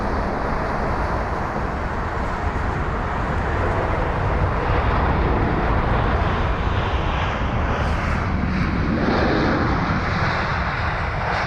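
An aircraft arriving at London Heathrow passes as a loud, sustained engine roar that swells toward the middle and then shifts in pitch as it goes by, with no voices over it.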